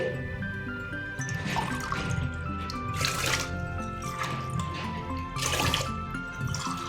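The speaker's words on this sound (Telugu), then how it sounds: "రైస్ని అయితే బాగా వాష్ చేసుకున్న తర్వాత నేను ఇక్కడ వాటర్ అయితే వేసుకుంటున్నానండి" Water poured into a pot of washed rice for cooking, a continuous trickling and splashing with drips and soft clinks, rising in bursts over a steady background hum, without speech.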